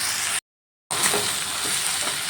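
Close, loud sizzling of mung dal and banana flower being stir-fried with spices in a pan, with a constant crackling hiss broken by a brief silent gap and light scraping of stirring.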